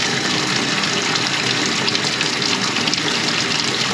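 Water gushes fast down a freshly unclogged bathroom sink drain, a loud, steady rushing swirl that fills the whole clip with no talking.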